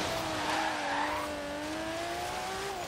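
A Skyline R33 in Forza Horizon 3 spins around with a sustained, loud tire squeal that glides slowly in pitch over a steady engine drone throughout.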